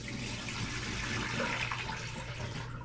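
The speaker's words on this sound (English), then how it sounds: "got to spill some of this water" Water splashes and pours steadily for a few seconds, close by, like liquid tipped out into a sink, with no one speaking.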